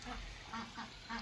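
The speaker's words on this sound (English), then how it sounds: "Huh, ducks?" Ducks quack in a few short, nasal bursts at a distance, faint and spaced out over a quiet outdoor background.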